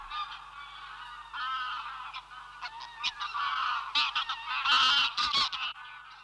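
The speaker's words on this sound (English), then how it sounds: "graylag geese arrive from Iceland, driven out by the Arctic chill" A flock of greylag geese, arrived from Iceland for winter in the Scottish highlands, honks continuously. Overlapping calls build in loudness toward the end, some nearer and sharper, with a low background hum and no human voices.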